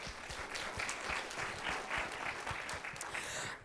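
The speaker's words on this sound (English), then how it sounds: "So a round of applause for our panel." Audience applause for a panel at a talk on race and identity with kids, a brief, dense burst of clapping from a crowd, fairly soft and even throughout.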